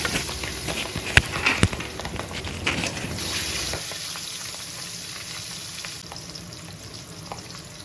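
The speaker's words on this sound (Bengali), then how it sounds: "নুন হলুদ লাগিয়ে সর্ষের তেলে সেটাকে একটু লালচে করে ভেজে নিচ্ছি।" Pabda fish rubbed with salt and turmeric frying in mustard oil, a steady close sizzle with busier crackling spatters early that settles into a softer, even hiss.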